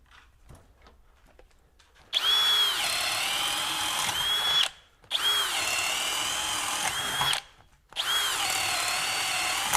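A Hercules HCB92B 20V hammer drill bores into 3-inch material in three long, loud, steady whining runs, each stopping briefly before the next begins, close up and alone.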